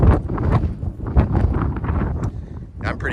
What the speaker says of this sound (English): But it is windy out here.